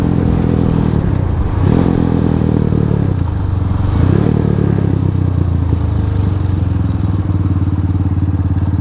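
A Venom X22R motorcycle engine runs in third gear, a loud, close, steady drone that rises and dips with throttle changes, with clattering mechanical noise and no voices.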